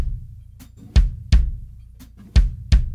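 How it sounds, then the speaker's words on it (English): Drum kit feet play a zamba-like pattern on kick and hi-hat pedal, with irregular low thumps and sharper accents spaced across a few seconds, moderately loud with no voices. "the feet play a zamba-like pattern"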